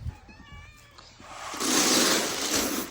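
Cats meowing on a farm, a few harmonic mews in the first second, followed by a louder, broader stretch of close noisy sound.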